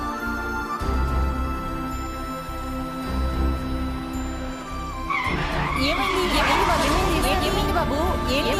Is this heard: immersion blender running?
no